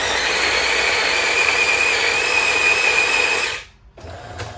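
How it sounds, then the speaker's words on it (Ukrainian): Jura ENA8 coffee machine grinder fitted with new burrs set to the finest grind, grinding coffee beans with a steady loud whirring drone that runs for several seconds, then stops abruptly. "На максимально затягнутих жорновах кавомолка повинна молоти довгий час"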